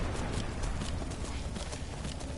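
Horse hooves clip-clop in the Skyrim video game, a quick run of loud, close footfalls in a steady rhythm over a rough background rustle.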